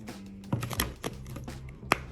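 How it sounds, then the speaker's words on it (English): A large Urban Tarot deck is shuffled by hand up close, giving a few soft, quiet card flicks and taps over about two seconds. "I don't know why I have such a hard time shuffling on camera."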